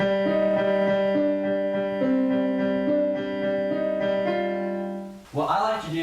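A piece played on piano at full speed, a sustained low drone with moving upper notes ringing together in a dense, even texture, close; a brief spoken voice comes in at the end.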